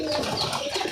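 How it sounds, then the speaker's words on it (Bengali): Pet pigeons coo close by in a brief, soft, rolling burble, with no talking over it. "পাখি এরা দাঁড়াও, পাখিরা কিছু খাবার দি"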